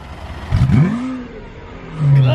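A Ferrari engine revs once, a short rising roar that fades, followed by a lower rumble of the engine idling nearby.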